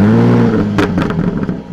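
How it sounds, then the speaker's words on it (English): A 2020 Jaguar F-Type engine roars to life with a loud, deep revving burst, followed by a series of sharp exhaust crackles and pops as the revs settle, close up with no talk. "when you start the car, it gives you exhaust crackles"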